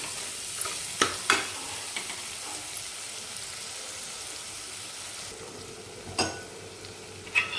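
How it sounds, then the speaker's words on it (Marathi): Tomatoes with salt and spices fry softly in a pan, a quiet continuous sizzle marked by occasional scraping stir strokes and clinks, close by with no talking. "हे मीठ अर्धा चमचा, म्हणजे आपले टोमॅटो पटकन असे शिजले जातात"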